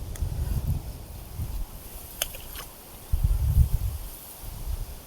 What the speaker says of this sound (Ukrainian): Вітер помінявся, тепер обличчя дує.